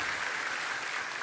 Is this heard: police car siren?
no